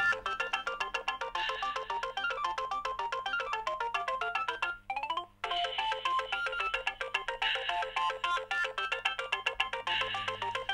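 A mobile phone ringtone plays loudly and continuously, a bright repeating electronic melody with a brief break midway before resuming, over a low steady hum.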